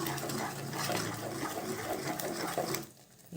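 Water pours into a pan of coconut, potato and pea curry cooked without onion or garlic, a steady close splashing gush that runs for most of the moment, then cuts off near the end.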